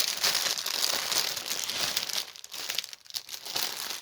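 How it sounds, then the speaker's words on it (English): Close plastic bag packaging from a pre-stamped cross stitch kit crinkles loudly and continuously, with sharp rustles that ease off briefly and then pick up again. "Crinkle, crinkle, crinkle. My goodness. Okay, get rid of that bag."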